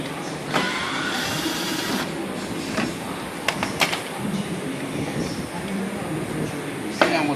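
Sidecover mounting screws come out of a motorcycle with a whirring tool burst and scattered clicks, heard close under a steady background hum, with a person talking at times.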